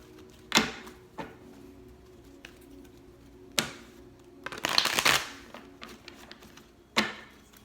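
Tarot cards are shuffled in a few sharp bursts, with a longer riffle in the middle and isolated taps between, close and alone.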